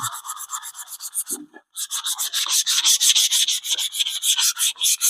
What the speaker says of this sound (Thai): เดี๋ยวผมจะขัดร้อยยี่ก่อน ขัดไล่เบอร์ไปนะครับ